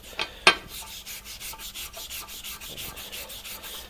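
Sandpaper rubs back and forth over a workpiece in a steady rhythmic stroke of soft scratchy swishes, close and fairly quiet, after a sharper knock near the start.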